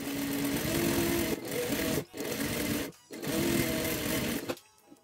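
A sewing machine stitches the folded fabric of a child's backpack in loud, close bursts, stopping briefly between runs and then falling silent at the end.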